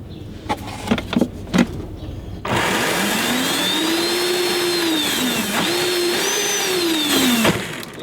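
A 12V Power Wheels electric Jeep motor overdriven on 48V at low speed spins up after a few sharp clicks into a loud, steady whine that rises and dips slightly in pitch, close and continuous for several seconds.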